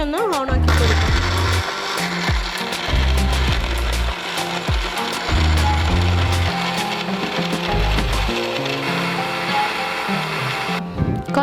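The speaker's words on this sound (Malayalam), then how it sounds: "ഇനി മിക്സി ഒന്ന് ഓണാക്കി കൊടുക്കാം." A mixer grinder whirs and rattles loudly as it blends Munch chocolate, milk and ice cubes, ice clattering against the jar in bursts that start, stop and restart over several seconds.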